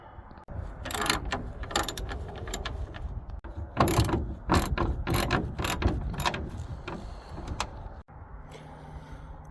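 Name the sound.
ratchet removing Ford F-150 front grille nuts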